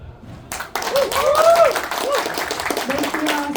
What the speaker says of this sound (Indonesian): Tepuk tangannya boleh sekali lagi?